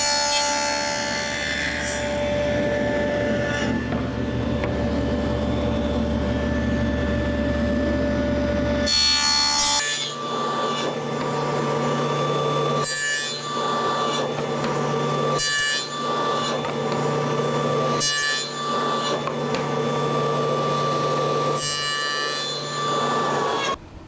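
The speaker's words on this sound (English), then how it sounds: "This was done at the table saw using a dado blade." A table saw fitted with a dado blade cuts notches into the backs of wooden bookcase shelves, a steady loud whine running close up through the whole stretch with repeated surges and dips as each pass is made.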